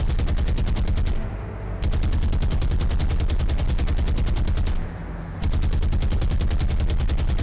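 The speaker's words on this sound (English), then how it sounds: "Anti-aircraft going up now." Continuous rapid anti-aircraft gunfire from a warship in War on the Sea, loud and close, in long bursts broken by two short pauses, with no voices.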